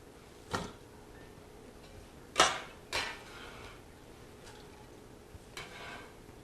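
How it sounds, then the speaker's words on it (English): Red cabbage dropped into a cooking pan in a home kitchen, a few scattered soft thuds and rustling crunches with two louder impacts in the middle, fairly quiet with no talking. "So we're going to get all this cabbage in the pan."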